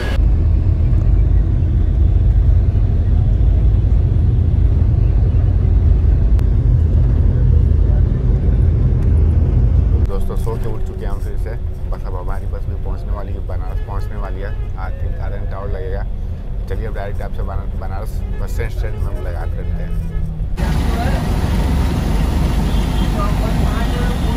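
Interior of a luxury AC sleeper bus driving from Delhi to Varanasi at night: constant loud low engine rumble and road noise fill the cabin, the tone shifting midway as the bus changes speed, with occasional rattles.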